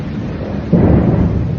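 Thunder rumbles during a thunderstorm in Texas, a loud low roll that swells partway through and holds, heard alone over steady background noise.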